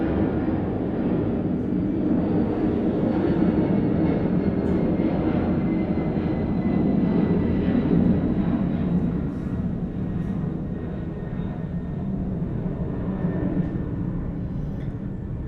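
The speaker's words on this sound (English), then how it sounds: "So the plane just went by." An airplane flies overhead, producing a loud, steady broadband roar that holds for the full stretch and eases slightly toward the end, with no talking over it.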